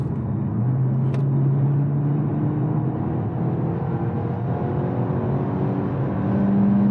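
A 2022 Peugeot 508 GT with a 1.6 PureTech 225 hp engine and EAT8 automatic pulls from 80 to 120 km/h. The engine tone climbs steadily under a constant cabin rumble, loud and continuous, with no talking.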